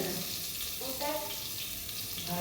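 Tap water runs in a home kitchen to fill a container, producing a steady rushing splash with a shifting tone as the vessel fills, while brinjal fries faintly nearby.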